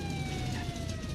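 A police car siren in a GTA roleplay game wails steadily and loud, a continuous electronic tone over a dense, noisy background.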